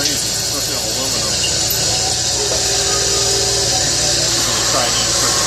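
An OMNI-Turn CNC lathe drills an aluminum 6061 cap with a steady machine hum and whine. Faint tonal squeals and scraping sounds run through it, and a person talks over the machining.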